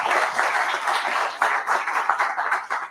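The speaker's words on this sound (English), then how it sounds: "A round of applause for our 2 program chairs" A room full of people claps steadily, a dense, sustained round of applause with no talking.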